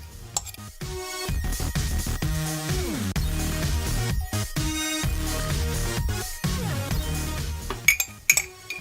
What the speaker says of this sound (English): My coffee is granulated, so I like to first crush it.